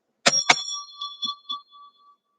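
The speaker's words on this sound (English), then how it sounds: "the close of our meditation will be by the sound of the bell." A meditation bell at a yoga gathering is struck twice in quick succession, its bright tone then ringing on and slowly fading into silence, close and alone.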